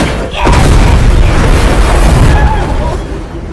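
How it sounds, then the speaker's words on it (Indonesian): A loud, sustained boom of a grenade explosion in a film, rising sharply and rumbling heavily for a few seconds before fading. "langsung membawa sebuah bom granat untuk bisa mematikan mereka semuanya"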